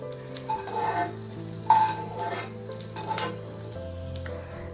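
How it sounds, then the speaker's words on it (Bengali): A dried red chilli tempering in hot oil for a vegetarian dish gives a soft, quiet sizzle with a few light clinks and stirring touches, close by and without speech. "তারপর আমি ওই তেলে একটা শুকনো লঙ্কা ফোড়ন দিয়ে দিলাম।"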